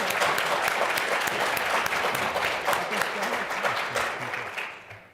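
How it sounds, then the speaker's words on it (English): Dense, steady applause from a debate audience at a U.S. Senate GOP primary event, loud and sustained for several seconds before tapering off, with faint voices mixed underneath. "Please hold your applause."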